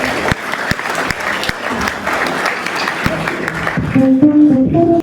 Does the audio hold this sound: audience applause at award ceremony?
yes